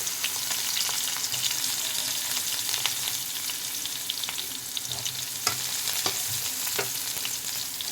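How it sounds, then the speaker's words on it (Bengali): Eggplant pieces fry lightly in oil in a kadai wok, a continuous close sizzle broken by sharp crackles and the occasional scrape of stirring. "এবার আমি ওই কড়াইতে একটু তেল দিয়ে দিয়েছি। এবার আমি হালকা করে বেগুনটা ভেজে নেব।"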